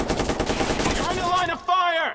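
Rapid bursts of gunfire crackle in the video game Watch Dogs, a dense volley followed by a short break and more shots, with game sounds layered over it.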